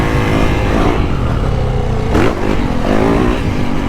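A Yamaha YZ450F dirt bike engine runs loud and close, with a brief rev around the middle and a rough, clattery four-stroke tone throughout.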